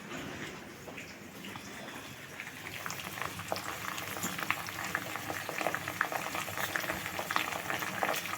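Leaves sizzling and bubbling in homemade hair oil over a low gas flame, a steady close crackle with soft stirring, dense and continuous throughout, with no voices.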